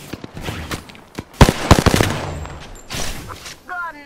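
Bursts of gunfire from the battle royale game Apex Legends, a loud cluster of sharp shots and rapid volleys with a few isolated cracks, mixed with game voice lines.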